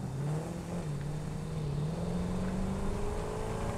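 A vehicle drives along a track in the factory-building game Satisfactory, its engine giving a steady loud drone with a slowly wavering pitch, continuous and close throughout.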